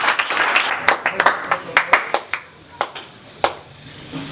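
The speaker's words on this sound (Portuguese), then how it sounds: "Quando está a levantar, uma salva de palmas." A church congregation in Angola claps for a standing guest: scattered, uneven hand claps, dense at first and then thinning to sparse single claps, fairly close, in a reverberant room.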